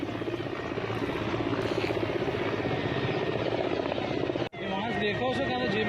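An army rescue helicopter thunders overhead in a steady, loud rotor drone with rhythmic blade chop, continuous for several seconds with a brief dropout near the end.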